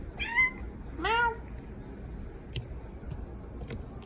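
Two clear meows from a pet cat named Beyonce come close together near the start, the second rising and falling, then only quiet room noise with a couple of faint clicks.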